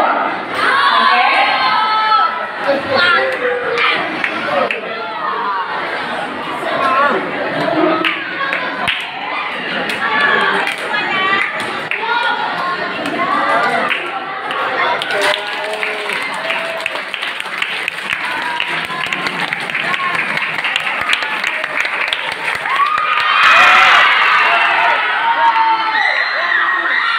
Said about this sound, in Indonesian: Setelah itu kita teriak sambil berteriak kencang mungkin